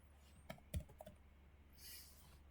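A password being typed on a computer keyboard, a few quiet, close key clicks in a short uneven burst, then a faint hiss.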